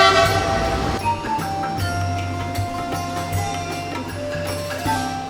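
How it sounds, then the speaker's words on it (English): An electric train moves steadily with a low rumbling drone and tonal whine, a horn sounding at the start, heard from inside a carriage. "This is a kind of like electric train, I think so."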